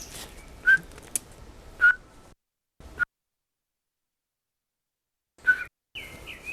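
A male midwife toad gives short, clear, whistled piping notes at intervals, several separate owl-like calls heard faintly in a quiet garden with gaps of near silence.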